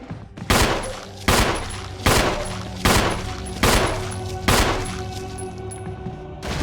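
Gunshots ring out at a zombie in the video game Resident Evil, six loud evenly spaced blasts, each with a ringing tail, close and alone.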